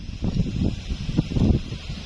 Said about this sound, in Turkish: Bayağı hava rüzgarlı.